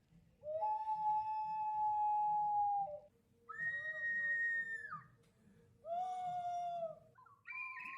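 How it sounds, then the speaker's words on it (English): Ancient Incan water whistle jars produce a series of long, pure whistling tones, four separate calls of a few seconds each, some sliding or warbling like animal cries. "These are water whistles that ancient Incans would have made hundreds of years ago."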